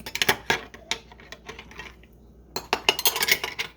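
Metal spoons clink and scrape against ceramic cups while skimming crema off coffee at a cupping of Colombian roasts, in rapid bright clusters of taps, a short pause, then another busy run close by.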